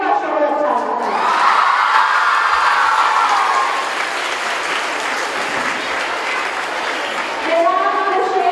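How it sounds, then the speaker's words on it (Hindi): An audience at a girls' school annual sports event claps loudly in a sustained, dense burst of applause, with a voice speaking over it near the end. "हमें तो बस आपकी तालियों का शोर अच्छा लगता है।"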